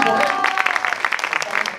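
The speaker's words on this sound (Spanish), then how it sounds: "denle un aplauso por favor a Paco Arango" An audience applauds for Paco Arango, a busy patter of many hands with a voice briefly heard over the start, fairly loud and sustained throughout.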